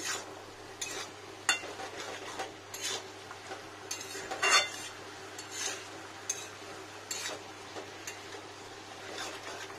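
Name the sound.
stir-frying cabbage and potato in a pan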